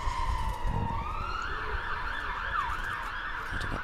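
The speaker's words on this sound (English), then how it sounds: "sirens squealing down the Sanford Road" A fire engine siren wails loudly down a road, its pitch sweeping up and down steadily as it passes close by, with traffic rumble underneath.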